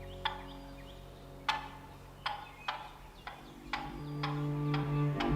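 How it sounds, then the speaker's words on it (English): Wild turkeys gobble from a logging road nearby, with about eight sharp, rattling gobbles spaced irregularly across the stretch, fairly close and clear over a steady low hum. "They were gobbling and strutting."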